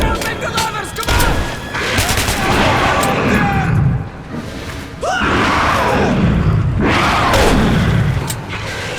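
Heavy gunfire and booming blasts in Metro 2033 Redux, loud and continuous with a few sharp reports, while shouted voices break in over the noise.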